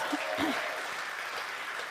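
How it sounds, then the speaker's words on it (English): Congregation at Unity of Louisville applauding in a brief, moderate round of clapping, with a faint chuckle near the start. "give yourself a round of applause"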